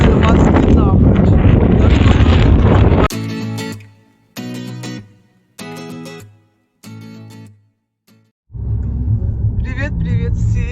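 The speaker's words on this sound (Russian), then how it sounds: "ветер меняется. И я вам хочу сказать, что продувает не на шутку" Strong, cold wind buffets a microphone on a rocky seashore, loud roaring gusts at the start and end, with a voice speaking in short bursts in the calmer middle stretch.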